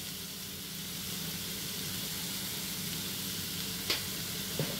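Chicken gizzards cook in a pan with salt and turmeric as they are stirred together. A soft, even sizzle hisses throughout, broken late by two brief utensil clinks.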